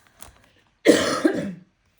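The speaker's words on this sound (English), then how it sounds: "I still have a little bit of a residual cough hanging around from my cold this week." A single hoarse cough from a person with a lingering cold, close and fairly loud, preceded by a faint breath and followed by silence.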